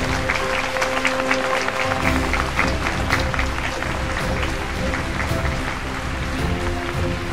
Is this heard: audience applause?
yes